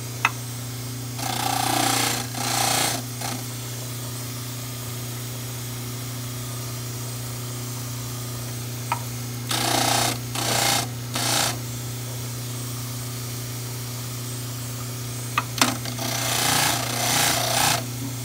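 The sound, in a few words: power tool trimming extra material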